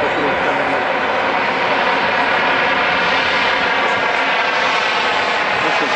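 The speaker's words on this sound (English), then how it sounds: "I hear Durban ground getting ready to push back the two Boeing 737s." Two Boeing 737 airliners at an airshow produce a loud, continuous engine roar and broad rushing hiss that hold steady throughout.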